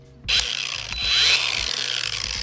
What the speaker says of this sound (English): once you get your sander or whatever you're sanding your haft with, make sure you give it a few little test pops